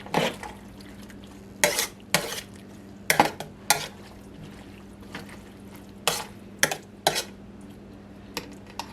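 Squash cooking in a little grease in a pot, stirred by hand, with a soft sizzle and a string of sharp clanks and scrapes of the spoon against the pot at an uneven pace, close, with no talk.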